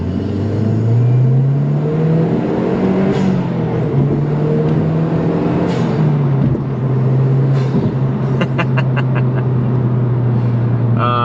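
A Mazdaspeed 3 turbocharged engine accelerates hard, a loud continuous rising drone with the pitch climbing and dropping through gear changes, and light whooshes and chirps near the end.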